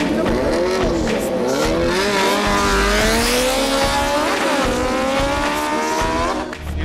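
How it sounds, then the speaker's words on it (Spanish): A motorcycle lapping a racetrack, its engine note climbing steadily in pitch as it accelerates past, loud and close, then briefly backing off near the end. "ahora estoy probando la moto de mi papá acá en el autódromo"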